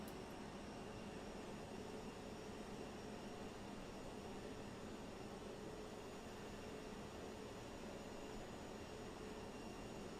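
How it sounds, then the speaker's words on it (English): Steady engine roar of an airliner taxiing outside an FBW A320neo cabin in Microsoft Flight Simulator, a constant broadband drone holding level throughout with no talk. "I swear I hear a plane moving around out there."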